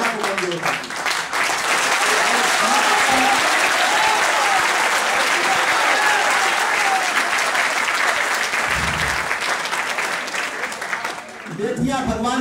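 Sustained applause from a large audience at a university poetry recitation, dense and steady clapping filling nearly the whole stretch, with brief speech at the start and end.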